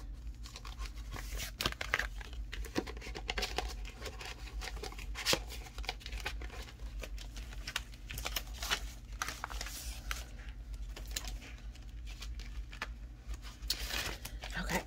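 Papers for a savings challenge being slid back into an envelope, producing steady close rustling and crinkling over a constant low background hum.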